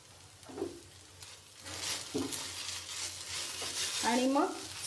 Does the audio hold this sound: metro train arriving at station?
no